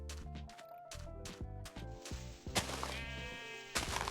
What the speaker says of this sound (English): There's some sheep.